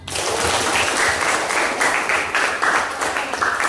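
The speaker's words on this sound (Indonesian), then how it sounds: "kasih aplaus untuk Diana" Sustained applause from a classroom of students clapping for a classmate named Diana, a dense even patter of many hands held steady at moderate loudness from start to finish.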